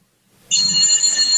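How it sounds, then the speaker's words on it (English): An old-style bell telephone starts ringing abruptly after a moment of near silence, sending out a loud, steady metallic trill with no voices over it. "Whose phone is ringing? It sounds like a bell phone."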